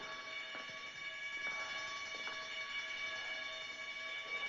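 Continuous electric alarm bell ringing steadily at moderate loudness in a 1960 spy drama, with a few faint knocks beneath and no talking.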